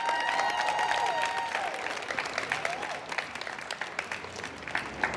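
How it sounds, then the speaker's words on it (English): Crowd at a parents' rally for kids breaking into applause, a broad wash of clapping that thins into scattered claps over a few seconds, with a microphone squeal at the start. "you can clap for your kids."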